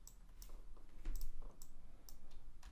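Mouse clicks while renaming parts in Altium Designer PCB software, a handful of sharp, close, quiet clicks, some in quick pairs, spread over a few seconds with no voices.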